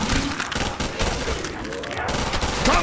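An MG2 machine gun in a custom zombies-style map fires dense, continuous bursts close up, filling the whole stretch with crackling shots under a voice.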